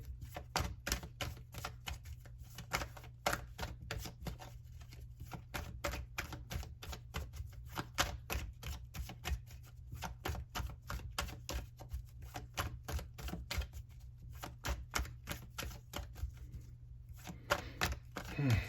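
Tarot cards being shuffled and drawn: a rapid, steady run of crisp flicking and riffling snaps close by for the whole stretch, with a low hum underneath and no clear talking.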